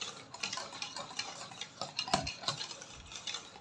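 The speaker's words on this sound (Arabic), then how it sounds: "هكذا راح نخلطو مليح" A spoon stirring and mixing a tartlet filling in a bowl, giving a steady run of soft scraping ticks and clinks at close range, with no talking.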